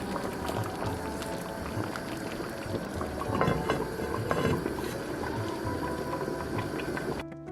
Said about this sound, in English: allow it to boil for another 5 minutes so that the salt can dissolve and all the other flavors can come together